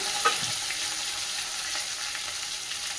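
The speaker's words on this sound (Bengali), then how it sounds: "হলুদ দিয়ে দিলাম মানে ছিটকাবে বেশি আদাটা দেওয়ার পর ছিটকায়" Vegetables with tomato, green chilli, ginger and turmeric frying in hot oil, a steady close sizzle with scattered sharp spatters and pops throughout.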